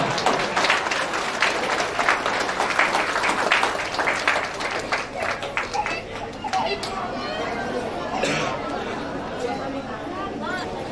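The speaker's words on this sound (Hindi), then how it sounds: "जोरदार तालियां" Strong applause from a foundation day celebration audience fills the first half, dense and loud, then thins into crowd chatter and scattered claps with voices talking over it.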